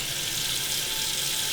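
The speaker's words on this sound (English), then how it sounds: "I'm gonna put some water" Water runs steadily from a tap as a little is poured into a pan in a home kitchen, a constant close hiss and splash with no voices.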